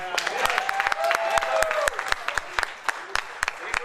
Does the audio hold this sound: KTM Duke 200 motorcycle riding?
no